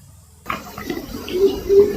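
Parboiled biryani rice is poured onto a strainer, giving a short watery rush and splash that swells after a sudden start and continues for under two seconds.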